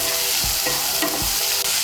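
Chopped tomato sizzles in hot oil as a utensil stirs it, with a few soft scraping strokes against the pan over a continuous close frying hiss.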